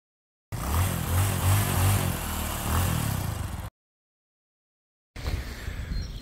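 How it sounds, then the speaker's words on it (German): A motorcycle ride captured through a Sena 10C Evo helmet camera, with loud close engine drone and wind that cuts out abruptly, falls silent for a moment, then returns rougher and gustier. "Und dafür, ja, schwinge ich mich aufs Motorrad."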